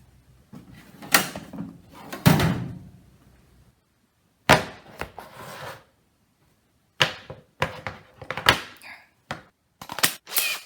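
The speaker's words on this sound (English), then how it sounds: "I'm going to hammer it in that small hole" Sharp hammer blows strike a nail into wood in uneven clusters, loud and close, with short pauses between groups of hits.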